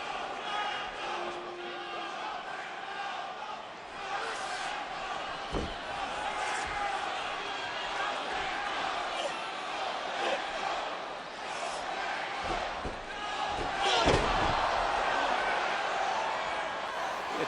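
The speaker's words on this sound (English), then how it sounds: "Chavo knocking Cena down again" During a WWE SmackDown match with Chavo Guerrero and John Cena, a wrestler slams down onto the ring mat with sharp thuds under a roaring arena crowd and running commentary.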